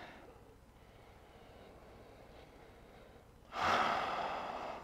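A deep inhaled breath during a yoga session, a rising rush of air that swells suddenly near the end and holds loud and close over quiet background hiss.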